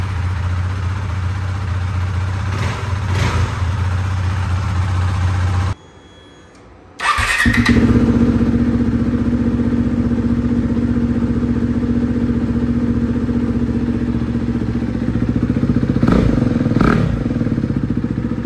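A Husqvarna Svartpilen 401 motorcycle with an aftermarket SC Project-style exhaust idles with a steady, throaty rumble, cuts out for about a second, then fires back up and keeps idling loudly with a brief rev near the end.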